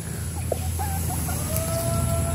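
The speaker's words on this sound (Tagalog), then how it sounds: "ngayon ito pinag-aagawan ng ating Rhode Island Red" Rhode Island Red chickens cluck softly while pecking at grass on a farm, with scattered short calls over a steady background hum.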